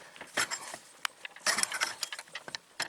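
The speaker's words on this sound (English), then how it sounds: "So we can get a screwdriver in there." A screwdriver prying at a pressed-in part of a go-kart torque converter, giving scattered metallic scrapes, clicks and ratcheting knocks at close range, irregular and without speech.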